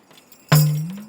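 A single din stroke on a ganjira frame drum gives one sharp attack with a sustained low, ringing, slightly rising resonant tone that decays slowly, heard alone in a quiet room.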